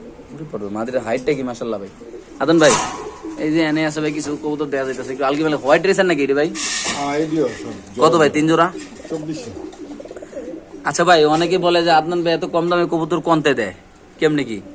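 Soft racing pigeon coos sound under nearly continuous close talking at a pigeon farm, with a few brief pauses in the speech.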